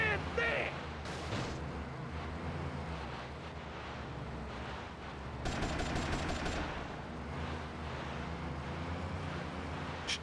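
Gunfire in the video game GTA: Vice City: a steady, dense rumble of shooting with sharper bursts near the start and again midway, under continuous game noise and voices.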